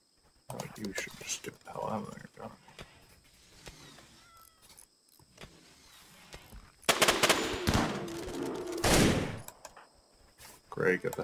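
Shotgun fire in the video game RimWorld sounds in sharp bursts among scattered game effects, with a louder stretch of rapid shots in the second half while someone talks over the action.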